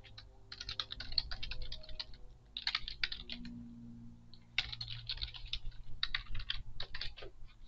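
Computer keyboard typing in quick bursts of clicks with short pauses between, close and clear with no talking.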